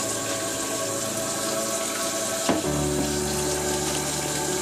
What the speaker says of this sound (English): I'm taking some vinegar and I'm getting ready to pour it.